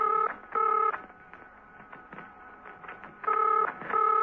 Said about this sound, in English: Steed's telephone was ringing